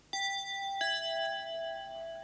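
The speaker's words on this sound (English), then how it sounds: "No one makes cookies like Grandma, said Ma, as the doorbell rang" A two-tone doorbell chimes twice in quick succession, bright ringing tones sustaining and slowly fading, clear and fairly close in a quiet room.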